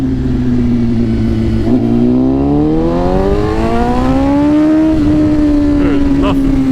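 A 2024 BMW S1000RR sport bike with a tune accelerating hard, its engine pitch climbing steadily through the revs in a loud, close, continuous howl before leveling off.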